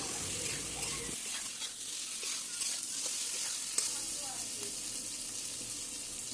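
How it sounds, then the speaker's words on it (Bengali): Vegetables fry with cumin and red chili powder as they are stirred through, making a steady close sizzle with light scraping throughout. "বেশ করে এই দুটো মশলা ভালো করে মিশিয়ে নিচ্ছি সবজির সাথে"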